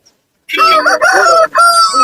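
A rooster at the Kunnathur weekly market crows loudly and close by in one long, strained call that breaks briefly and then resumes.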